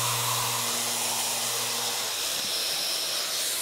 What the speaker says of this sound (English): we turn the machine on, we get a green light. We've then got variable speed.